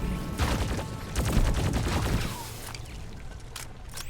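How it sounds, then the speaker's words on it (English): Rapid bursts of SMG fire in a video game, a couple of seconds of rattling shots at moderate volume that cut off and leave a quieter tail. "this SMG is actually a lot better now that I've changed the perks on it"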